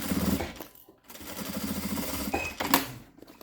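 A sewing machine stitches a fabric toiletry bag in a fast whirring burst, pauses briefly, then runs again, close and fairly loud with no talk over it.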